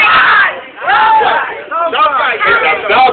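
A woman vocally imitates a dog fight with a continuous stream of loud, close snarls, growls and yelping barks that rise and fall for several seconds.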